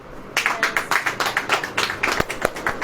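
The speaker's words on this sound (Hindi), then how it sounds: "ताली बजाओ।" A congregation at a Hindi-language church sermon claps in rhythmic unison, a run of sharp, evenly spaced claps that starts abruptly and continues to the end.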